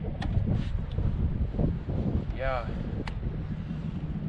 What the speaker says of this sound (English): It was way more difficult today with the wind.